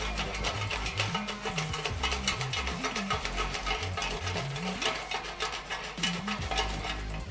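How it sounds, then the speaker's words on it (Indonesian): Food being shaken in the basket of a Mi Smart Air Fryer, rattling and scraping steadily alongside a continuous background hum, with no talking. "kalau harus nge-shake makanan yang lagi dimasak di air fryer ini"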